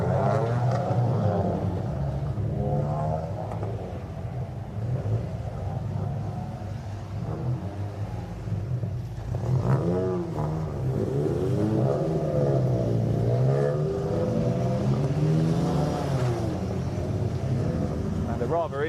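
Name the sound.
Ford Fiesta race cars heading out on track at Snetterton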